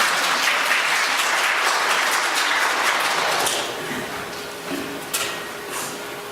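Loud, close applause from a gathered crowd that carries strongly for about three seconds, then thins out into scattered claps and a quieter room.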